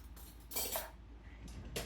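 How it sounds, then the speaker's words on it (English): A spoon clinks lightly against a dish while swirling chocolate cream cheese fudge frosting on a devil's food cake, giving a few soft, close taps and scrapes. "Now I'm just going to take a spoon"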